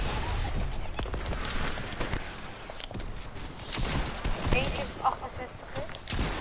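Rapid gunfire in a shooter video game, with bursts of shots and scattered footsteps running continuously under excited players' voices.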